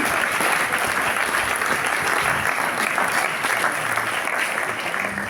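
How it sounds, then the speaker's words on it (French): An audience claps loudly and steadily for the organizing teams at the closing session of a regional conference in Martinique, a dense, continuous wash of applause with no one speaking over it. "Je pense qu'on peut applaudir toutes les équipes qui"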